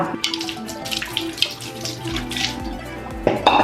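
A tap runs steadily into a sink while cold water is splashed on a face, with continuous close gushing and a few louder splashes and knocks near the end.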